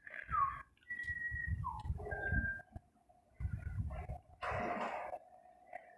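An Indian ringneck parrot gives several short, clear whistles, including a rising and falling note, between bursts of low rustling and breathy noise close by, with a faint steady tone underneath.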